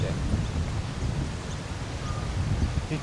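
Wind blowing across an open golf course, a low, steady buffeting rumble that roars continuously through the short stretch without letting up.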